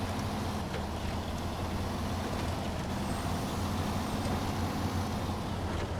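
A truck engine in the off-road driving game SnowRunner: a steady, loud, rumbling drone with broad noise that holds for the whole stretch, with no talking.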